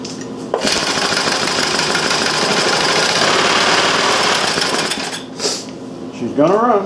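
A Reo engine fires up after its carburetor has been cleaned and runs with a loud, steady mechanical clatter for several seconds, then stumbles and dips before revving again.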